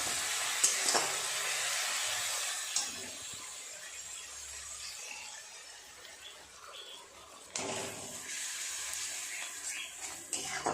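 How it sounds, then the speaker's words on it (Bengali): Onion, tomato and spice masala sizzles steadily in a pan for a Bengali tangra fish dish, a soft, continuous hiss broken by occasional stirring scrapes. "ভালো করে মশলাটা একটু নেড়ে চেড়ে কষিয়ে নিন"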